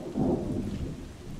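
Rain and a rolling thunder rumble in the Bottle Pilgrim video game, a low boom swelling near the start then fading under a steady hiss of rainfall.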